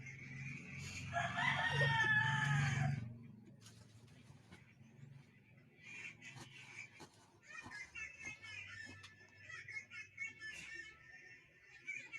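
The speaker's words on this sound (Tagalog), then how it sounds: "Sisiw." A rooster crows loudly and close by for a few seconds, followed by softer clucking and chirping from chickens and chicks, with a quiet voice now and then.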